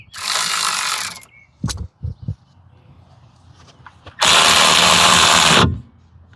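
A power tool runs down and tightens a brake caliper bolt on a Hyundai Sonata during a brake pad replacement. Two loud, sustained whirring bursts come up close, with a few short mechanical clicks and knocks between them.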